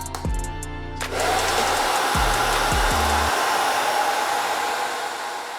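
Handheld hair dryer switched to its cold setting while styling a man's hair, a steady close whoosh of blowing air that starts after a brief click and hum, running loud and unbroken.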